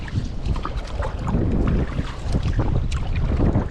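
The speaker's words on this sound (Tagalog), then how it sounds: "Sobrang lakas ng hangin." Strong wind buffets the microphone in loud, gusty roars that rise and fall throughout.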